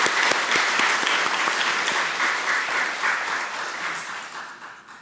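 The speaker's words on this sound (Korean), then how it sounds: "우리 박수로 환영하시도록 하겠습니다." Congregation clapping during a Sunday church service to welcome a newly registered member, steady moderate applause that gradually fades away over a few seconds.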